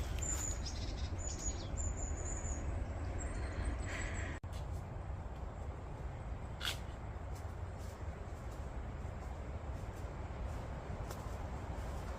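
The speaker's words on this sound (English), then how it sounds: "Lots of birds around, it's lovely." Birds chirp and sing in scattered, fairly distant calls over a steady low background hush along a forest hiking trail on the Namparang Trail in South Korea.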